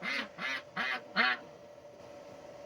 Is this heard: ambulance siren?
no